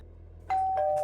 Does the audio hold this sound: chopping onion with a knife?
no